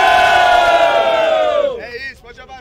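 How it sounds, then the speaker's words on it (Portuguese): A crowd at a rap battle final in Itaquera roars and shouts together in a loud sustained collective yell that fades out toward the end. "Mão e barulho para as rimas de Breno"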